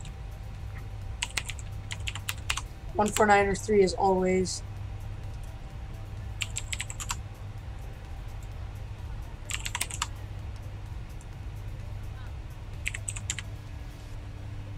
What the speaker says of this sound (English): now you can just type in this with your keyboard